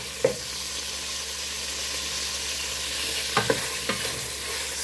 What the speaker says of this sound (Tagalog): So i-stir lang natin yan hanggang ma-brownish yung kulay kunti